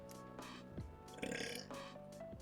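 A long, low belch rumbles out close to the microphone, stretching over a couple of seconds with a rough, voiced growl and a brief rise near the middle, alone without talk.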